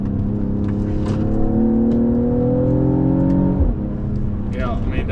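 A 2024 Mercedes-AMG GLE 53 SUV engine pulls hard through second gear, its note climbing steadily before a sharp downshift blip cuts in near the end, loud and close with cabin road noise throughout.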